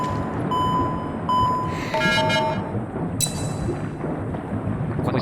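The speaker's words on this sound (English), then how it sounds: "that kind of pling noise you heard is the warning that you're underwater without an air necklace" Repeated high, bell-like plings sound as a video game warning for running out of air underwater, a few short tones spaced over the first couple of seconds above a dense, rumbling game background.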